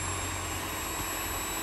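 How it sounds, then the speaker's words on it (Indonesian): Older Miyako SM-625 stand mixer motor running alone, a steady, even broadband whir with a constant low hum, moderately loud and close. "ini untuk mesin mixer yang terdahulu,"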